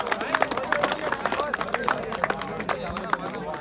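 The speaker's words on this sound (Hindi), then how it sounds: "जोरदार तालियां बजाए" A crowd at an honoring ceremony for an Indian Army volleyball team captain claps in quick, uneven bursts, with chatter and voices mixed underneath the rapid clapping.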